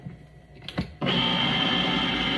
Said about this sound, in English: That's just the sound of my can opener.